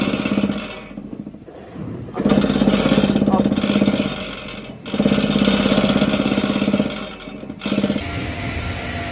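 A farm machine with a cracked weld lets two pieces of 2.5 to 3 mm steel plate rattle together, a loud rapid metallic chatter over the running engine that comes in several bursts separated by brief quieter gaps.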